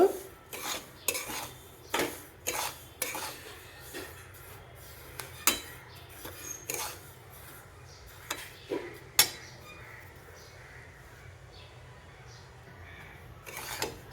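Semolina frying in ghee in a pan while a spoon scrapes and taps the metal in quick irregular clinks, close up, then slows to a faint hiss near the end, with no voices.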